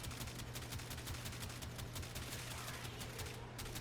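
Tiberon Prime rifle in Warframe firing rapid, evenly spaced shots in a dense steady volley that runs the whole time under a constant low hum, quiet overall with no talk.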